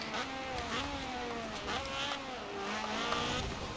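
Engines of 1970s cars race in Forza Horizon 4, with a continuous droning note whose pitch climbs and drops through gear changes, steady and fairly loud, with faint tyre noise.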